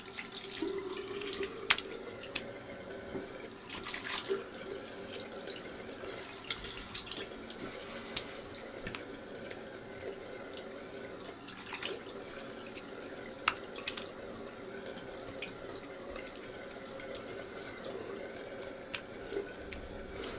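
A bathroom faucet runs steadily while a razor is rinsed under it, a soft continuous water flow with a few brief splashy clicks and taps, fairly quiet and heard alone without talk.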